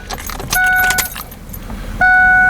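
Car keys jangle as the ignition is turned on, with loud metallic clinks near the mic, followed by steady electronic tones from the dash or an installed laser jammer.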